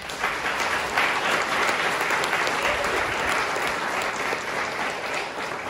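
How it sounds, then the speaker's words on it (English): Sustained audience applause honoring a school board trustee, a continuous wash of many hands clapping at moderate volume, steady from start to finish. "I want to applaud her, and would you do that for me as I honor her tonight?"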